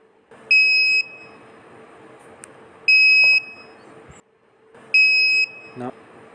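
An Arduino alarm buzzer driven by a DS3231 real-time clock beeps three times, each a shrill, steady tone lasting about half a second, evenly spaced, close and loud over faint background hum.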